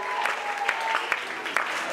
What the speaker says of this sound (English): with a standing ovation and with a mighty clap offering